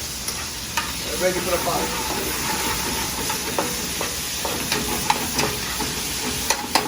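Beef loin fries in oil in a pan, sizzling and hissing steadily up close with occasional pops and stirring scrapes, while someone talks over it in a kitchen.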